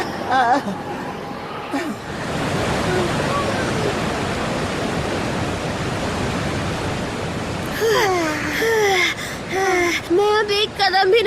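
A waterfall near a cave roars as a steady, broad rushing wash for several seconds. Voices are heard talking briefly before it and again over it toward the end.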